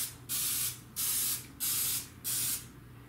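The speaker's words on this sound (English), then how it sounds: "I'm gonna take my baking spray and I'm just gonna hit both sides of all these donuts lightly with a little of the spray" Baking spray misted over glazed donuts in four short bursts, each a bright hiss of roughly half a second with brief pauses between, close and fairly loud, with no talking.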